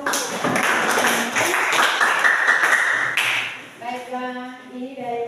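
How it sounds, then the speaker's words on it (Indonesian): A classroom of students claps together for a group's work during a school teaching-practice lesson, dense and steady for about three seconds before fading as a teacher's voice takes over. "Kita beri tepuk tangan dulu."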